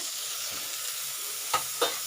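Half a cup of sugar with a teaspoon of water sizzles in a kadai on the stove for caramel, giving a steady close hiss broken by two brief metallic clinks near the end.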